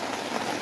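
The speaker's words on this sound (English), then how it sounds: "And the rain is literally hammering." Heavy rain hammering down, a dense, steady hiss of drops beating on surfaces with no pauses or voices.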